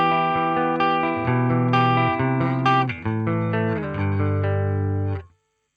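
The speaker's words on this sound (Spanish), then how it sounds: "los chorus quedan muy bien y esta emulación me gusta porque se le puede agregar un poco de flanger" Electric guitar played through a Nux MG30 with chorus and flanger emulation, notes arpeggiated in overlapping ringing chords with a swirling, shimmering tone, loud and close, then stopping abruptly.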